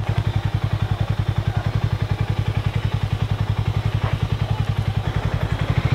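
A motorcycle engine runs steadily up close on a Konkan coastal road trip from Ratnagiri to Malvan, its rapid, even thumping pulses continuous and loud throughout, with no talking.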